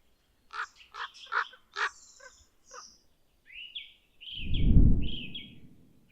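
Ravens in an ancient forest near an eagle owl nest in early March give a run of hoarse, harmonic calls at moderate distance, followed by a longer croaking call over a deep, swelling rumble.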